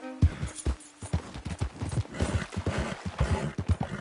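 Horse hooves in Red Dead Redemption 2 clip-clop at a steady walking pace, close and distinct, in a regular four-beat rhythm over faint ambient background.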